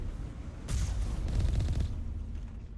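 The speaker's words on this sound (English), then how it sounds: "I can actually shoot this one." A rapid burst of weapon fire in Mass Effect 1 Legendary Edition on PC, a rumbling stuttering volley lasting about a second amid steady background noise.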